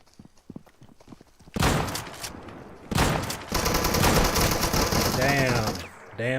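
Rapid shotgun blasts from Deadside gameplay, a dense run of loud close shots in two bursts with a louder sustained stretch, some faint talk at the start.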